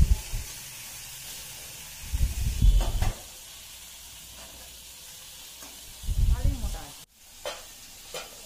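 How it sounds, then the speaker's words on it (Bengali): Soft sizzling of oil as fish fries in the background, with two louder bursts of frying and stirring clatter, plus a few brief scrapes. "মাছ ভাজাও তুলে দিয়েছে"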